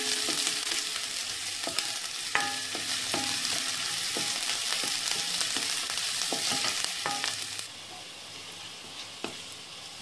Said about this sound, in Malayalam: ഇതിലേക്ക് പച്ചമുളക്, ചെറിയുള്ളി എന്നിവ ചേർത്തൊന്ന് വഴറ്റിക്കൊടുക്കാം